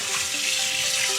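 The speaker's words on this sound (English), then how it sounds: "So now we're gonna wash our drip pans in the sink here." Tap water runs steadily into a kitchen sink as oven drip pans are rinsed, giving a continuous close hiss with no talk over it.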